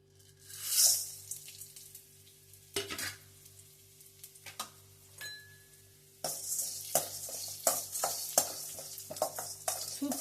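Ingredients for drumstick soup fry in a little oil with a quiet sizzle at first. Later the sizzle grows louder and busier, with repeated stirring scrapes and clinks against the pan.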